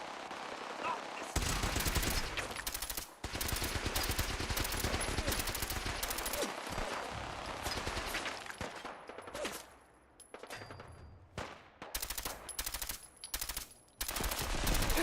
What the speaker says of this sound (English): Okay, that's a minigun.